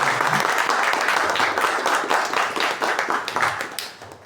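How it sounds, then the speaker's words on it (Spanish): Loud, sustained applause from an audience at a second-anniversary celebration in Asunción, Paraguay, dense clapping at first that thins into distinct rhythmic claps and fades near the end. "otro fuerte aplauso para ellos"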